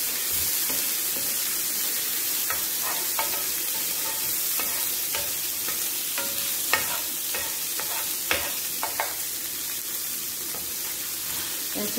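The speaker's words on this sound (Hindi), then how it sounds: "इसको 1 मिनट भूनेंगे।" Chicken shashlik pieces frying with a little garlic in a pan, steady sizzling hiss throughout with scattered scraping clicks of a spoon stirring, close and even in level, no talking.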